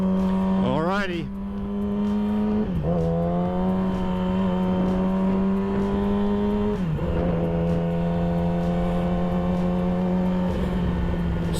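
A custom Yamaha R6 sport motorcycle hums steadily while underway, its engine pitch dipping and rising through gear changes, with wind noise throughout and a rider talking over it.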